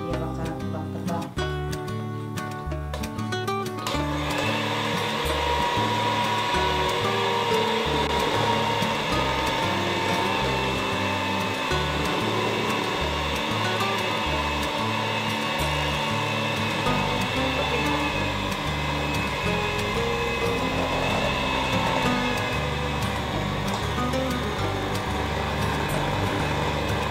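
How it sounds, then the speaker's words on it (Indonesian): An electric mixer runs steadily on low speed, mixing pempek dough with sago: a continuous, loud motor whir that holds evenly for nearly the whole stretch after a brief start-up, with no talk over it. "Mixernya kecepatan rendah aja."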